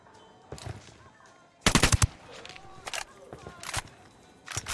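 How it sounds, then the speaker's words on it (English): Bursts of automatic gunfire in a cartel-fighting video game on Xbox One X, loud rattling volleys with one long burst mid-way, a few shorter ones after it, and a voice talking between them. "Opening fire on these fuckers."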